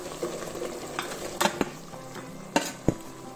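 Jaggery being stirred into a cucumber mixture in a pan for dhondas, a soft simmering sizzle broken by a few sharp spoon scrapes and clinks against the pan.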